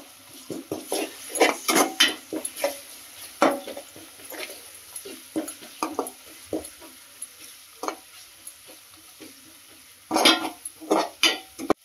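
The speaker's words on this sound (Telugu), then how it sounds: "ఇందులో కొద్దిగా అల్లం వెల్లుల్లి పేస్ట్, అలాగే 1/2 teaspoon పసుపు, ఇవి రెండు వేసి పచ్చివాసన పోయేంత వరకు వేయించుకోవాలి" Ginger garlic paste and turmeric fry in a pan, a soft background sizzle broken by frequent scraping and clinking strokes of a spatula against the pan, coming in irregular clusters and louder toward the end.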